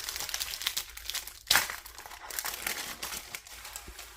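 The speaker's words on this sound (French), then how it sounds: "Donc on va déjà déballer ça. Ouais, ça fait du bruit à chaque fois, je suis désolée." Plastic packaging from a crochet subscription box crinkles and crackles up close as it is unwrapped, with one sharper tearing rustle, quiet and without speech.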